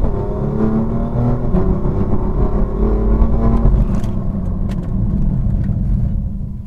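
A BMW M4 drives and accelerates, its engine rumbling loud and close with rising revs, then a gear shift and a steadier drone under rushing road noise.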